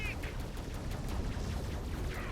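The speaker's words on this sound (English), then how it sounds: "Fires a missile salvo at him." A missile salvo fired in the space combat game Fractured Space: a dense, continuous crackle of rapid launches and blasts, steady and moderately loud for about two seconds.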